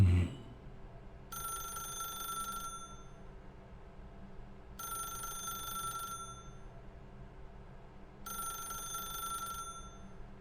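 A telephone ringing in the video game The Stanley Parable, three evenly spaced electronic rings of about a second each separated by quiet pauses, fairly faint over a low hum.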